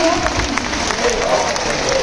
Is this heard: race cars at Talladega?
no